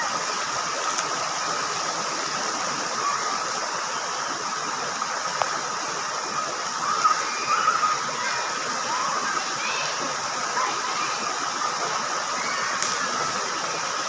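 River water at a bathing spot in the provinces rushes and sloshes continuously, a broad steady wash with occasional small splashes close by.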